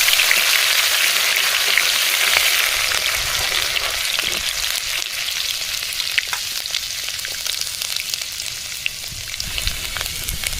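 A bay leaf, whole cumin seeds and chopped garlic hit hot oil for a chicken curry, producing a loud, bright, continuous crackling sizzle up close that settles slightly over time, with no voices.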